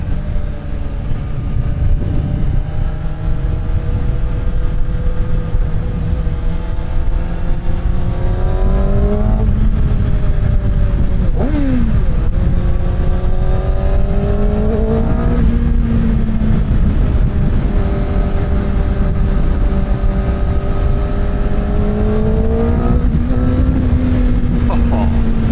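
Kawasaki ZX-6R supersport motorcycle engine pulling hard in third gear on the road, a loud continuous whine climbing in pitch in repeated sweeps with brief dips between, mixed with steady wind roar.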